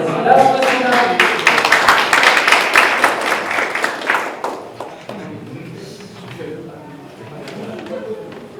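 Applause from an audience at a Korean public-institution jobs ideathon awards ceremony, a dense burst of clapping for the event committee that fades after a few seconds, with voices over it.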